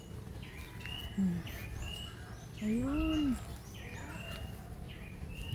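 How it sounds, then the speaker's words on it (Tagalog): Birds call outdoors: scattered high chirps and tweets, plus a couple of louder, lower rising calls nearby, over a soft ambient hiss, while a voice speaks briefly. "Mga tunog yan guys, mga ibon."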